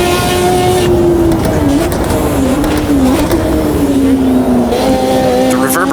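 A 1986 Formula 1 car engine in Automobilista 2 screams at high revs during the Canadian Grand Prix, a loud sustained whine echoing off nearby walls, with commentary talk running underneath.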